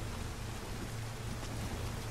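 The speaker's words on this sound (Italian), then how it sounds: "Ma perché deve fare piovere questo gioco?" Steady rain falls in the video game Nioh, a dense, even hiss with a low hum underneath that holds unchanged from start to end, with no voices.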